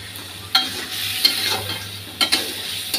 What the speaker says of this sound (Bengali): আলুটা একটু মশলার মধ্যে কষিয়ে নিই